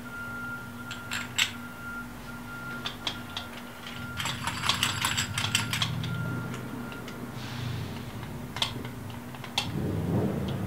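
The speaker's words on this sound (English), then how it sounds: "And then we'll press it in with this special tool that we have." A long bolt is pressed into a 2016 RRS snowmobile bike kit with a special press tool, giving scattered sharp metallic clicks and ratcheting clatter over a steady low hum, close and moderately loud with no talk.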